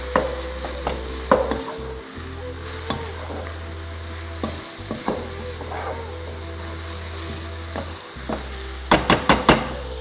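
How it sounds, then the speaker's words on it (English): Turmeric, chili and spices sautéing in a pan for mkate mayai, a steady close sizzle punctuated by scattered stirring scrapes and a cluster of sharp clinks near the end, no talk. "so let's give it a little cook, saute,"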